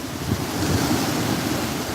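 Rough sea with waves and strong wind, a continuous dense roar of surf and wind buffeting the microphone, loud and unbroken, no voices.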